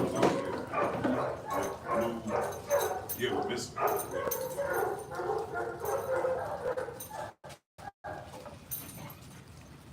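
Dogs at a live dog-training session give yips, barks and soft whimpers mixed under near-continuous conversation between people, with the talk dominating and the animal sounds scattered through it.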